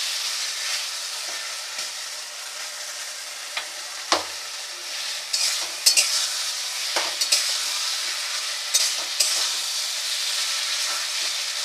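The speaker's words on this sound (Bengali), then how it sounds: "চিংড়ি মাছটা 10-15 মিনিট এইভাবে নেড়ে নিতে হবে।" Small shrimp fry in a pan with a continuous sizzling hiss while a utensil stirs them, scraping and clinking now and then, close up with no talking.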